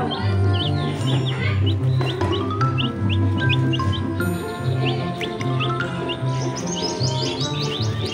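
Chickens cluck continuously and close by, with chirping birds overlapping in a busy, steady barnyard chorus.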